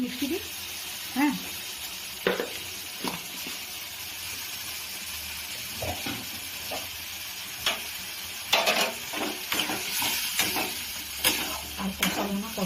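Spices with onion and mustard fry in oil in a pan for a Bengali fish curry, giving a soft sizzle broken by intermittent scraping stirs and clinks of the spoon, with quiet voices at moments.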